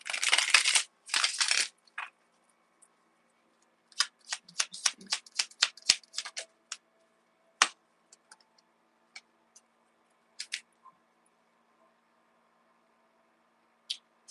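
Tarot cards riffle and shuffle briskly at first, then give way to scattered light taps and flicks as they are handled, with quiet gaps between.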